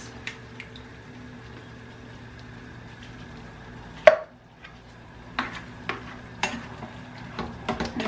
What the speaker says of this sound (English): I then go on to add the chunky tomatoes